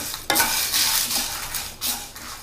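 Dried red chillies being fried and stirred in a pan, giving a steady soft sizzle with scraping strokes of a spoon against the pan, close and continuous.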